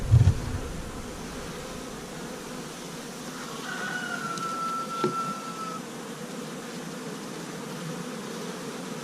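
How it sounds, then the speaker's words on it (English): Honeybees buzz from an opened winter beehive on a warm January day, a steady low hum close by with no brood present, and a brief higher whine drifting through the middle. "There's the queen bee right there."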